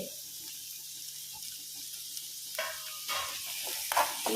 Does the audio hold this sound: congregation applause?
no